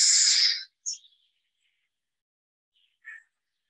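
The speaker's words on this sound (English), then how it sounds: "This is what a group of juvenile burrowing owls sound like when you disturb them down" A group of juvenile burrowing owls disturbed in their underground nest chamber gives a loud, breathy hiss burst, followed by a couple of brief, faint squeaky calls separated by silence.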